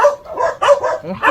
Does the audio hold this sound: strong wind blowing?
no